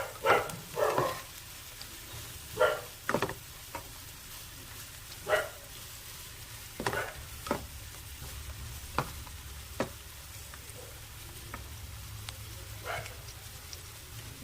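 Crushed ginger and garlic frying in a pan for a mushroom roast, a low steady sizzle broken by a series of spaced stirring scrapes and taps, fairly quiet and close, with no voices.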